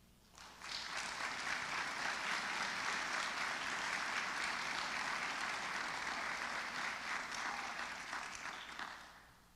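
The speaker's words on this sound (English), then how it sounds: "thank you for offering a round of applause" An audience at a college award ceremony for student achievement breaks into steady, sustained applause lasting several seconds before it tapers off near the end.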